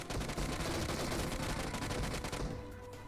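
Rapid, dense gunfire from a PUBG battle royale match, loud bursts of automatic shots packed together for most of the moment before easing off into quieter shots near the end.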